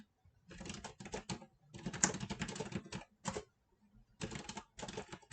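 Code is typed on a computer keyboard in quick clustered bursts of soft, close key clicks, broken by short pauses, with no voices.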